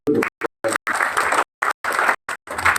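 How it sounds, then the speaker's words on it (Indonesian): A congregation applauds during a Sunday worship service, the clapping loud and close but chopped into short bursts separated by sudden silent gaps. "tepuk tangan dulu"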